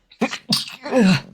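A single close, loud sneeze bursts out in a couple of quick sharp bursts.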